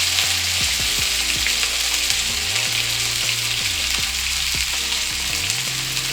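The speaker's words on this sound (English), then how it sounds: "So I'm going to go ahead on and lay my salmon in the oil" Salmon fillet sizzles loudly and steadily in hot oil in a pan, a dense continuous crackle with no talk over it.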